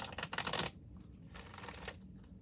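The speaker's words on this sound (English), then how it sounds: "I'm going to shuffle this." A quick burst of riffling tarot cards, then softer scattered shuffling and a second brief riffle, close and fairly quiet, no talking.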